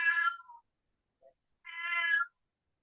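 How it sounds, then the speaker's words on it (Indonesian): A cat meows twice, a longer call followed after a short pause by a second drawn-out meow, close and clear in an otherwise quiet indoor room with no talking. "kucing."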